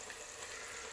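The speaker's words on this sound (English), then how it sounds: "The intensity of the frying is starting to diminish." Beer-battered onion rings deep frying in a fryer give off a steady, hissing sizzle of hot oil, close and even for the whole moment, with no voices.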